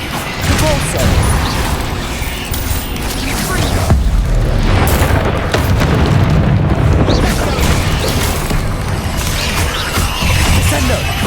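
A Depulso spell in Hogwarts Legacy unleashes a loud, sustained booming blast with crashing, rumbling debris, dense and continuous across the whole span, with a voice faintly mixed in.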